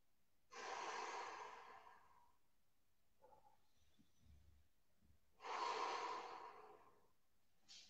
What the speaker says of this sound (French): j'inspire plusieurs fois pour gonfler le ventre